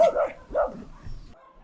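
Dogs bark in a few separate, fairly faint woofs at a large dog shelter in Lithuania, with a softer whimper trailing after.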